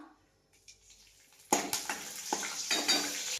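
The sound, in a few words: curry leaves sizzling in hot oil in a kadhai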